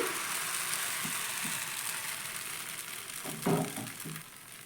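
A ladle of thin rice batter for soru chakli pitha spread in a circle on a hot pan gives a steady, close sizzling hiss with a few soft scrapes near the end.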